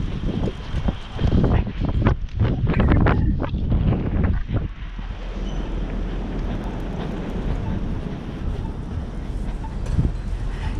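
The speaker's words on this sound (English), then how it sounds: "Oh, it's windy." Wind gusts buffet the microphone outdoors on a city street near Trinity Bellwoods, heavy and rumbling at first, then settling into a steadier low rush, with bursts of talk early on.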